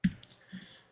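A single crisp computer mouse right-click, close and sharp, followed by a faint softer second click in a quiet room.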